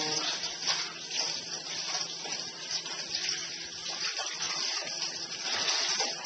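Green juice vegetables being rinsed under running water, heard as a steady, continuous gush and splash from a tap with faint handling noises underneath.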